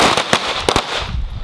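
Live gunshots during a shooting training drill: four sharp, loud cracks in two quick pairs, close to the listener, with no talking between them.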